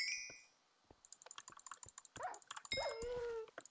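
Dog barks and whimpers in the Minecraft server Hypixel Skyblock, short sharp game sound effects mixed with rapid keyboard typing clicks, fairly quiet and close, no talking.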